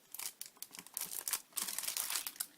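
Paper envelope packets crinkle and rustle as they are handled, a steady stream of soft crackling and crumpling, close and fairly quiet, with no voices.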